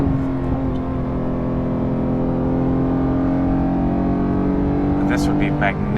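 A Porsche GT3 Touring car drives fast, its engine a steady, loud drone with constant tone held throughout, running continuously under light cabin noise.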